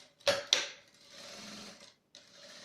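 A sewing machine stitches a safety seam along the edge of a fabric phone wallet: two sharp mechanical clacks, then a short steady run of stitching that stops, pauses and starts again, close and alone.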